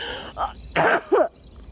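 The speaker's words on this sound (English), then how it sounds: "Cover your mouth when you cough." Three short, harsh coughs in a row, close and fairly loud, with brief pauses between them and a faint steady hum underneath.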